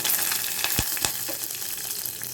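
A broken green chili frying in a pan of oil while cooking a simple Tamil lunch, a continuous sizzle broken by two sharp spoon or pan knocks, with no talking.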